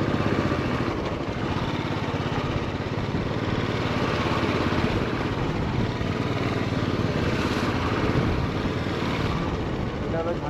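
A motorbike rides along a hilly mountain road between Malbazar and Delo via Lava near Kalimpong, its engine droning steadily and loudly throughout with dense wind and road noise and no clear break.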